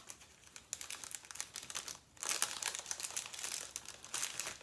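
A paper Halloween treat bag is folded and washi tape pressed along it, close crinkling and rustling paper with soft crackles, quieter at first and then louder handling partway through.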